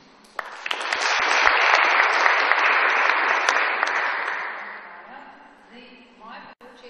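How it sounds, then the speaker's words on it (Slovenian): An audience bursts into applause at a public talk on water, swelling quickly, holding strong for several seconds, then fading out as the room settles. "Še en aplavz za prosim"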